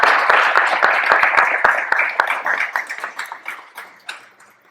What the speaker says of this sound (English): Can you guys give them a big round of applause?